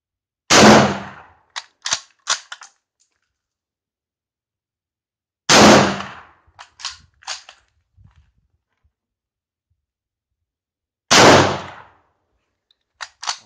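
M1916 Spanish Mauser rifle chambered in 7.62x51 NATO firing outdoors in cold weather, three sharp, loud shots several seconds apart, each followed by brief metallic clicks of the bolt being cycled.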